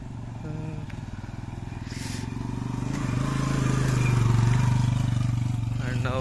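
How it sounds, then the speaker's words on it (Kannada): A motorcycle rides past a parking area near Kyatanamakki during an Independence Day ride. Its engine drone grows louder toward a close peak and then eases, with faint voices in the background. "ಅಣ್ಣ ಒಬ್ಬರು ಬೈಕ್ ತಗೊಂಡು ಹೋಗ್ತಿದ್ದಾರೆ"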